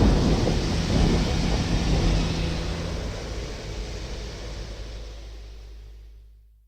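Thunder rumbles heavily and slowly fades through steady rain hiss in a thunderstorm sound effect, the deep roll loudest at the start and dying away to silence at the end.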